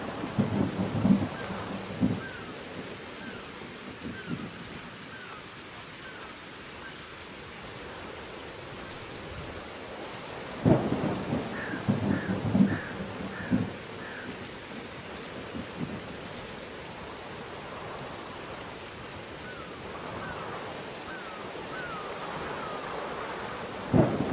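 A thunderstorm rages in Whispers of a Machine, with steady heavy rain hissing throughout and deep rolls of thunder swelling near the start and again midway.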